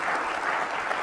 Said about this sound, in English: go give teachers a round of applause for what they do.